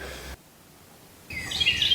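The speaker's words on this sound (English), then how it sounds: "You hear the birds outside?" Birds chirp outside in the morning, a brief burst of bright tweets after a short quiet gap, fairly near and alone.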